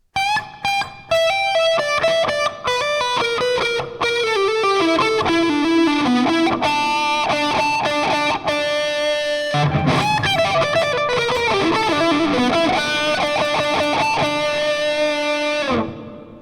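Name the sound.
distorted electric guitar solo run played slowly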